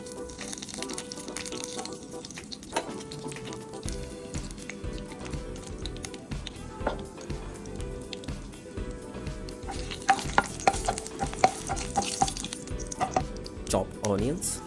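Garam masala and spices fry in oil in a pan for a paneer butter masala, giving a steady close sizzle with stirring scrapes and small crackles that sharpen toward the end.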